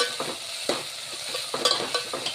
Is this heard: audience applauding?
no